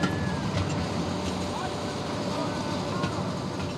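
British Rail service trains shift into position on a line being electrified in 1986. A low rumbling rolling noise continues steadily throughout, with faint clanks and a thin squeal over the top.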